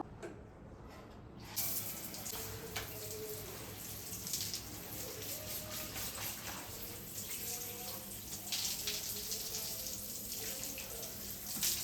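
Bath water runs steadily from a tap while hair is rinsed, with a soft splashing hiss that starts abruptly after a quiet moment and continues at an even level.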